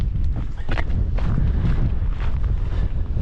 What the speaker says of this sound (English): It's now quite windy